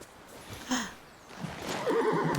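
A horse neighs in the Disney Dreamlight Valley video game, a short whinny followed by light hoof clip-clops, loud and close with no talking.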